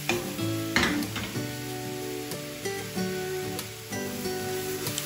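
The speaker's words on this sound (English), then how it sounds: "we're going to saute 1/2 pound of cremini mushrooms, salt and pepper" Half a pound of cremini mushrooms sautéing in butter with salt and pepper in a pan, a steady close sizzle broken by occasional scraping and stirring clatter, with no voices.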